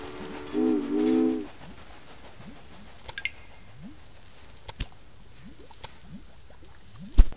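A train in the Railway Empire strategy game gives a short two-part horn blast near the start, followed by quiet ambience with scattered clicks and small rising chirps and a sharp knock at the end.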